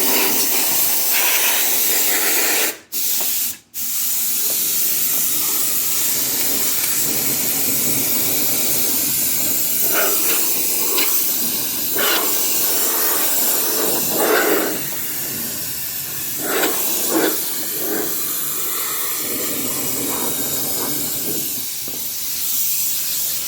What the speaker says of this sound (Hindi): अब इसके ये हम एयर मार के क्लीन कर देते हैं।